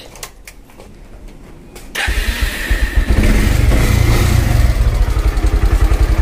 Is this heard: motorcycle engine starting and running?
yes